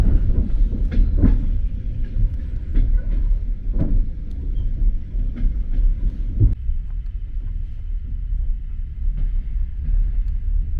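An old Soviet-era sleeper train rolls along rails toward Chisinau, a deep continuous rumble with irregular heavy knocks and thumps from the wheels and carriage, heard close from inside the car.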